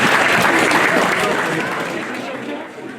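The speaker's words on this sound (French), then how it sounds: "on peut vraiment les applaudir super fort" A crowd applauds loudly at the awards podium of a mixed-pair snow trail race at Isola 2000 in the Mercantour, with dense sustained clapping throughout that eases off slightly toward the end.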